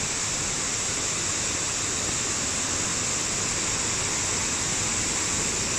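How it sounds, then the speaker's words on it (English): Steady, dense rushing water from a waterfall inside a cave fills the whole stretch, a constant broadband roar heard from close by, with no voices. "that waterfall is inside the cave"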